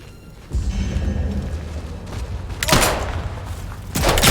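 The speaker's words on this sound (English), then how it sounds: "Let me test this gun out." A gun fires in the video game Atomfall: heavy, booming shots and bursts with low thumps, loud and close, spread across a few seconds of game noise without speech.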